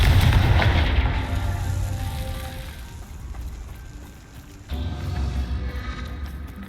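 Confringo blasting spell in Hogwarts Legacy setting off a single loud explosive boom at the start that rumbles and fades over several seconds, followed by a second low burst.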